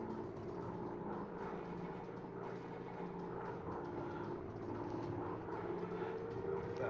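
A warplane's propeller engine in a Quest 2 VR flight game on an Allied mission drones loud and steady throughout, a continuous close rumble with no pauses.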